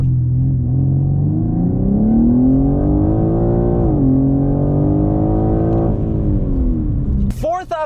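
A 2021 BMW M3 launching hard from a standstill to 60 mph, a loud, deep engine roar climbing steadily in pitch with a brief dip at a gear change, then cutting off sharply near the end.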